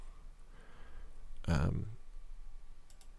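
A computer mouse gives a single quiet click while a file is uploaded, set against a faint room hush.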